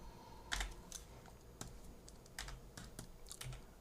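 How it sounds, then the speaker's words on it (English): Keys on a computer keyboard tapped in short irregular bursts, fairly faint clicks with small pauses between presses, no voice present. "So press tab and type snippet."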